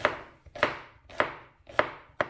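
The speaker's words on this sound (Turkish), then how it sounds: "Böyle böyle küp küp doğrayıp" Five sharp knife chops on a cutting board, dicing food into small cubes, evenly spaced about half a second apart, close and clear with no talking.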